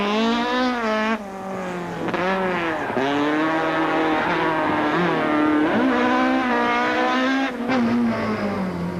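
A Toyota rally car at the Toyota Dealer Cape Rally 2004, heard from inside the car as it races through a stage: a loud, continuous engine roar rising and falling through repeated gear changes and revs.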